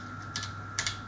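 Keys pressed on a BBC Master computer keyboard, two quick double clicks close by over a constant low electrical hum.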